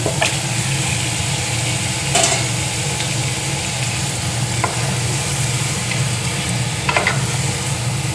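Marinated mutton for a festive Bengali mutton kasha sizzles steadily and loudly in a pan, broken by occasional spatula scrapes as it is stirred, with no speech.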